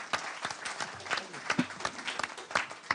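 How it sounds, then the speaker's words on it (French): An audience at a conference on rural mobility and public services in Europe applauds with scattered, moderately distant claps forming a light, uneven patter. "on peut applaudir Madame Brohan."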